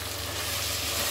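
Fenugreek leaves with coriander and mint frying in a pan, a steady, close, dense sizzle with no let-up across the short stretch.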